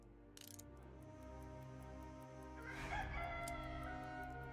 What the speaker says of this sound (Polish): Dobra, to kura jest.